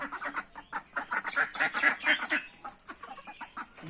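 Ducks and chickens by a village pond give a rapid run of close quacks and clucks, pulsing in quick rhythmic bursts that build and then thin out.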